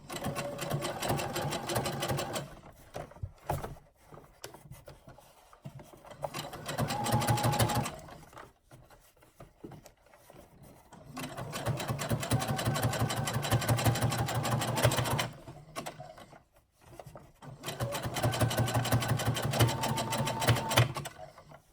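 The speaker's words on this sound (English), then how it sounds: "I'm just instead going to top stitch. And I'm going to top stitch toward the frame." A sewing machine top stitches fabric for a bra cup frame, running in several loud, steady bursts of rapid mechanical whirring separated by short pauses.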